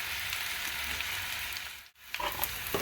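Onions fry in a skillet for breakfast potatoes with a loud, steady sizzling hiss that briefly drops out, then returns with crackling spatters.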